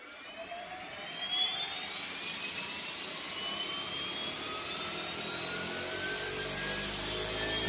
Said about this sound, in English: Let's go ahead, run our motor.